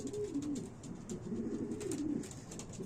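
Young racing pigeons coo in a low, rolling, repeated murmur, close by and continuous, with soft rustling in the loft and no talking.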